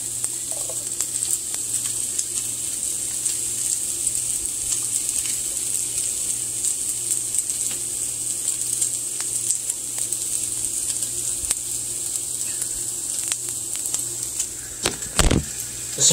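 Chicken frying in a pan and browning toward burnt, giving a steady, even sizzling hiss that runs throughout, with a brief louder disturbance near the end.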